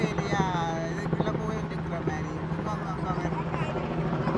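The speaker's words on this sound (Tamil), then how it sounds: "அங்கே பாருங்கோ ஹெலிகாப்டர் எல்லாம் வருது" A helicopter approaches over an outdoor Hindu temple festival at Val-Morin, Canada, its steady rotor drone and engine hum sounding continuously and fairly loud under a busy background of crowd voices.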